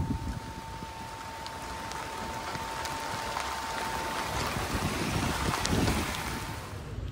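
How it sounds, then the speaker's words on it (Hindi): Water runs steadily at an Indian truck workshop, a continuous broadband rush with a faint hum, heard near and fairly even with no voices over it. "पानी चालू हो गया दोस्तों"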